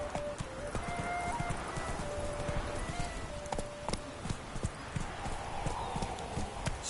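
Horse Roach gallops in The Witcher 3 Wild Hunt on PS4 Pro, with rapid steady clip-clop hoofbeats close up throughout, occasional whinnies and game music tones over a continuous bed of movement.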